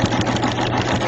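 A sewing machine runs steadily at close range during free motion quilting as fabric is turned freely under the needle, giving a continuous mechanical whirr without pause and no talking.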